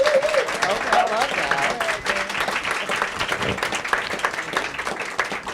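A panel audience at the Sundance 2026 Impact Lounge keeps up a prolonged round of dense, roomy clapping, with a few voices and cheers mixed in.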